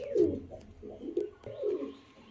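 Imported bloodline pigeons, adult breeding pairs, coo repeatedly at close range in soft throaty rolling phrases, with faint chirps between them and no talking.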